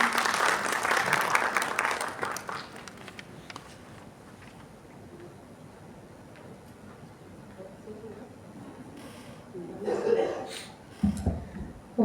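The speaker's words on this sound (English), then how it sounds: "Let's give her a huge round of applause." An audience at an international seminar at Jangipur College claps loudly for a few seconds, then the applause thins and dies away, and talking and a few closer claps follow.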